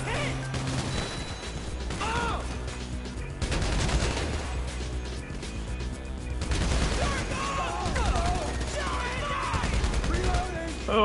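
Gunfire in GTA 5 Online during a bunker mission, with dense bursts of shots and crashes running steadily throughout over a layer of game music and effects, while players talk.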